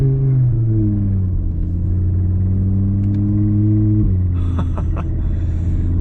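A loud Audi RS3 engine rumbles steadily and builds under throttle during a winter blizzard drive on snow, heard from inside the car, continuous and dominant with a brief gear-change dip and faint clicks.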